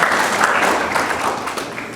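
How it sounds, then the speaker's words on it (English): Audience applause for a player at a youth baseball media day, a steady wash of many hands clapping that fades slightly toward the end. "y'all give him a round of applause, please"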